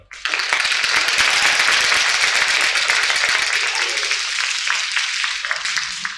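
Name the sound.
applause for civics bee competitors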